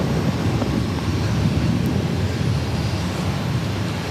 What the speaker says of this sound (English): This is Delta Airlines 256 taking off to Amsterdam on the A330 300.